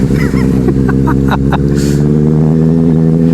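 Loud, steady engine drone from nearby motorbikes racing on a road, heard from a moving Benelli 600i with wind rush, the tone holding level with a few brief clicks and rattles.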